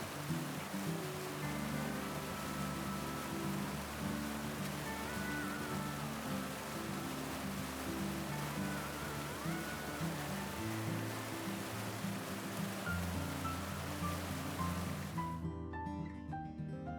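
A broad waterfall pours over a massive sandstone ledge about 15 feet high in West Virginia, its crest spanning over 2,300 feet, producing a steady, full roar of rushing water that stays constant throughout before cutting off abruptly near the end.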